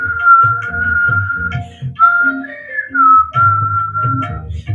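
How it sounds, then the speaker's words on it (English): A person sits in a yoga pose and whistles loudly, a bright, sustained tune close to the microphone with brief pauses between phrases. "Whistle loudly."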